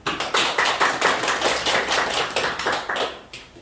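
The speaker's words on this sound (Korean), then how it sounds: "제 말에 동의하시면 박수 한번 쳐보세요" An audience claps together at a business motivation seminar, a dense, steady patter of many hands that holds at an even level for several seconds.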